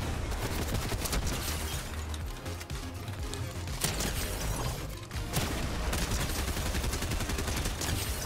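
Dense, continuous video game gunfire from a first-person 1v1 skin challenge match, rapid bursts and automatic fire layered with mechanical clicks and booms, loud and steady throughout with only brief dips.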